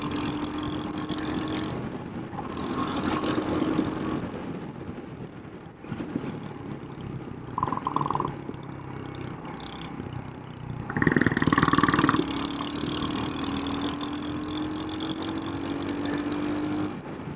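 Royal Enfield Hunter 350 motorcycle accelerating through the gears, a steady engine drone with rising pitch and wind rush, loudest around the upshift midway, continuous and close with no talking.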